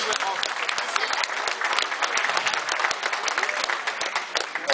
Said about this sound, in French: Un petit applaudissement pour Serge.